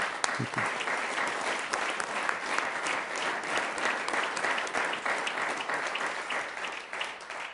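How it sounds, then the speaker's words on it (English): Steady applause from a crowd fills the room, many hands clapping at once without a break for several seconds. "let's give him a round of applause while he comes up"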